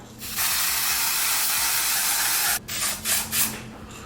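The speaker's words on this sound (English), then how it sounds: "I'm going to spray the lace with a little bit of lace tint to get it closer to my skin color." Lace tint sprays onto the lace of a 13x4 lace frontal loose wave wig in one steady, close hiss lasting about two seconds, followed by a few shorter bursts.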